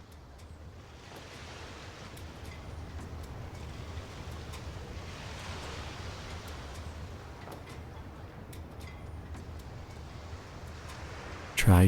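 Steady ocean waves wash and roll in a continuous soft roar, with light wind, ending in a brief louder bump.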